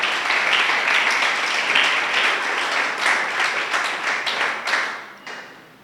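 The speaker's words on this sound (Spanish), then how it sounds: "Dele un fuerte aplauso al Señor" Church congregation giving loud sustained applause during a Spanish-language service, many hands clapping steadily for about five seconds before tapering off at the end.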